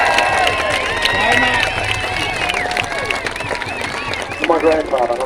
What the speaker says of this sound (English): Make some noise for the Aussie hero.